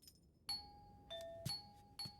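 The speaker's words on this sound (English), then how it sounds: "She's spamming the doorbell." A doorbell in the anime Fate Stay Night rung repeatedly, several bright ding-dong chimes in quick succession with short pauses, clear and close, with no talk.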